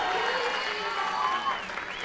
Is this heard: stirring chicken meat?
no